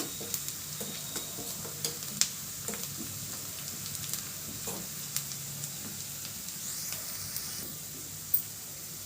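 Ingredients frying in a pan during Indian cooking, a faint steady sizzle and crackle with scattered small pops and occasional sharper clicks of a spoon, quiet and close, no talking.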